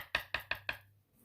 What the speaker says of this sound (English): you can hear the knock in there